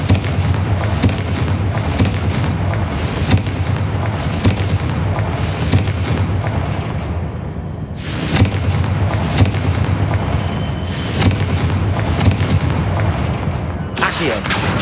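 Confringo spell blasts in Hogwarts Legacy, a dense run of loud booming explosions and thuds rolling one after another, with brief lulls near eight and fourteen seconds.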